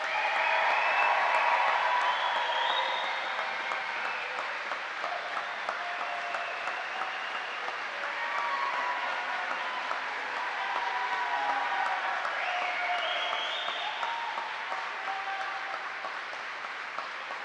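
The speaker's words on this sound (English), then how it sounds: "Please join me in a round of applause for the Army's newest aviation warfighters." A large crowd at an Army flight school graduation ceremony applauds steadily and fairly faintly for the whole stretch, a continuous wash of clapping in a big hall.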